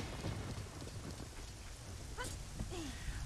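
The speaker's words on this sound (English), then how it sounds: "It's always raining here." Steady rain hisses throughout in The Legend of Zelda: Ocarina of Time Master Quest, a continuous wash of falling water with a low rumble underneath and a couple of brief chirpy tones near the end.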